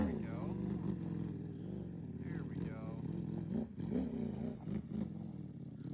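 A V4 motorcycle engine with a throttle fault at low RPM, stuttering and surging unevenly at moderate distance while a person talks over it.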